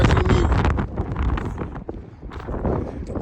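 Wind buffeting a microphone outdoors, a steady loud low rumble with gusty swells and fluctuations throughout.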